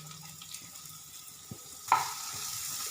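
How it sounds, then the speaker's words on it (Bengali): A chopped medium-sized onion hits hot oil with fried cumin seeds, cooking for a Bengali potato curry, mete alur tarkari. Quiet crackling jumps into a sudden burst of sizzling that settles into a steady, close fry. "এবার আমি ওর মধ্যে দিয়ে দিচ্ছি মিডিয়াম সাইজের একটা পেঁয়াজকে কুচো করে কেটে রেখেছিলাম"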